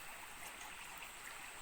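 A river on the way to a waterfall flows with a steady, even hiss and gurgle of moving water, continuous and moderately close, with no talking.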